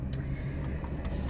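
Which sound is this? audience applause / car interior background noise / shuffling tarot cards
car interior background noise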